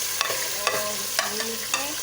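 Tomatoes going into a pan of frying bhindi masala bring four evenly spaced scrapes of a spoon against the pan over a low, continuous sizzle, close and moderately loud.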